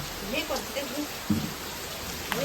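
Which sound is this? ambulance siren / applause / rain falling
rain falling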